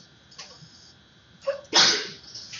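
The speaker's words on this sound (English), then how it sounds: "I'm sneezing." A single sharp sneeze bursts out loud and close after a quieter intake of breath, then trails off over a faint room hum.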